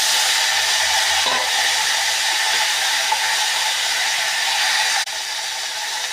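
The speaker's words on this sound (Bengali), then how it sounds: "পেঁয়াজ ভাজা হয়ে গেছে, ভেন্ডি দিয়ে দেবো" Okra added to fried onions in a hot wok makes a loud, even, hissing sizzle that holds steady, with a brief scrape and a slight drop in level near the end.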